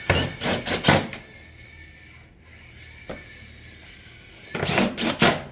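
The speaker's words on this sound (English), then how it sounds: "Getting fasteners in the front" Fasteners are driven into a roof ridge vent over cottage-style shingles, with quick bursts of sharp repeated impacts at the start and again at the end and a quiet stretch between.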